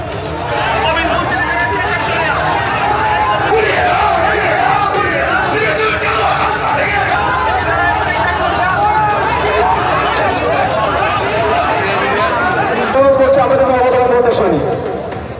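Trinamool protesters scuffling with police outside a hearing make a dense, continuous crowd roar of shouting and chatter, loud and close throughout, with a sharper surge of yelling near the end.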